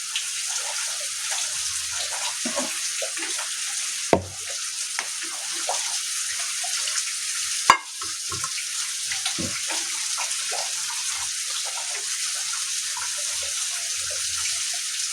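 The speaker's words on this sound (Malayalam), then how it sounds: "ഇനി കഴുകിയൊന്ന് ഒഴിക്കാം. പുളിവെള്ളം ഒഴിക്കാം." Tamarind water is poured into a simmering dried-prawn theeyal curry, a steady close trickle and bubbling with two sharp knocks of a vessel partway through and no voices.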